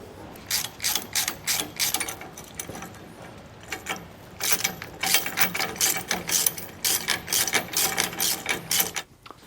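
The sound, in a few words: ratchet tightening bolts and nylon lock nuts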